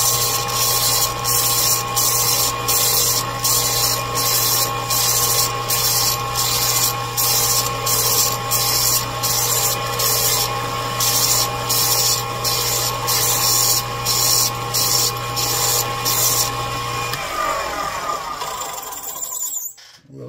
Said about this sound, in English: just do a little sanding on it.